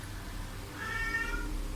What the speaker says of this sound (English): my cat is calling me